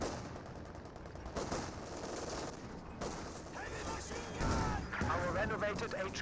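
Gunfire in a Company of Heroes 2 battle as German Grenadiers trade shots with an American .50 cal machine gun, rattling bursts under a commentator's steady talk.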